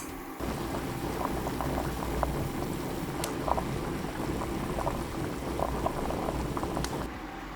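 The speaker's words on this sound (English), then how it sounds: "So over medium-high heat, you can boil down for another 5 minutes and that's it." Korean dried pollack soup (bugeoguk) bubbles in a pot over medium-high heat, a steady close simmering burble with small pops and no one talking.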